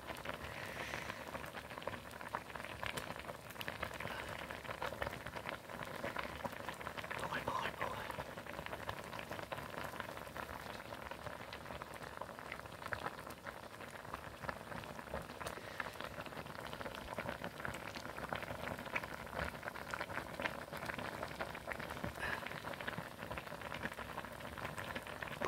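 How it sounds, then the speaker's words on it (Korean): Mugwort soup with doenjang, anchovy, onion, garlic and green onion boils in a pot, a soft, steady crackle of small bubbles heard close but quietly throughout. "쑥국이 잘 끓고 있습니다."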